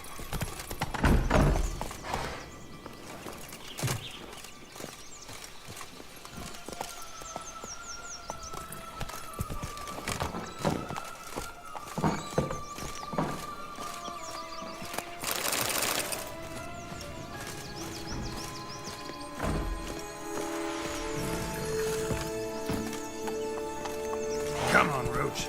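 Roach, Geralt's horse in The Witcher video game, with clip-clop hoofbeats and whinnies amid game music and effects while someone talks over it.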